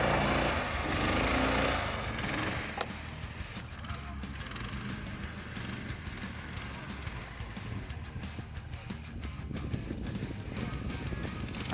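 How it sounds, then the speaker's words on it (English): A homemade motorsled named Burak with a 15 HP engine runs in the snow with a continuous rough small-engine drone, loudest at the start and then steady, with a voice talking over it. "And the next machine, which is called Burak, with 15 HP engine."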